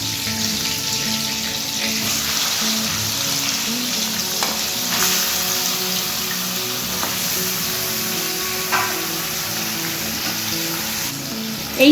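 Chicken frying in a pan of oil mixed with butter, a steady close sizzle with faint stirring scrapes and a soft musical tone underneath.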